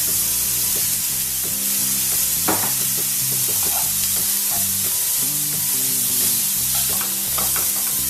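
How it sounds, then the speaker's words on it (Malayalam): Salted onions sautéing over medium flame in a pan for onion curry, a loud, dense sizzle with frequent spatula scrapes and taps as they are stirred, close up throughout. "ഇനി മീഡിയം ഫ്ലെയിമിൽ ഇതിങ്ങനെ കിടക്കട്ടെ ഇടക്കിടയ്ക്ക് ഒന്ന് ഇളക്കി കൊടുക്കണം"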